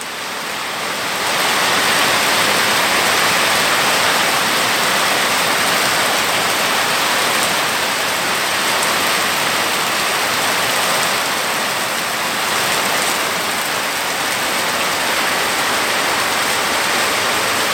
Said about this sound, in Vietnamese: thực sự là bây giờ đang mưa rất to luôn đó